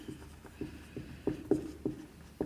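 Writing on a board in a chemistry classroom: a rhythmic series of short scratchy strokes and taps, moderately close and fairly quiet, with no speech over it.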